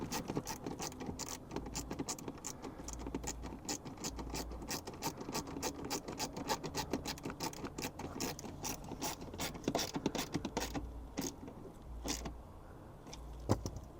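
A ratchet tightens a ground wire terminal on a Toyota 4Runner during a hardwire kit install, with a long run of quick, close clicking strokes in a steady rhythm and a few short pauses.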